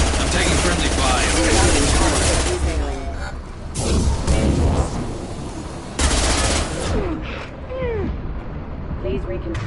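Friendly gunfire in Mass Effect 2, loud and close: sustained volleys of rapid shots in bursts, with brief lulls between them, and voices talking over the firing.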